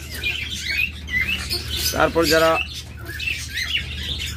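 Pet budgerigars, lovebirds, cockatiels and doves chirp and tweet in a steady overlapping chorus, with a brief louder squawking burst near the middle, all under a voice talking throughout.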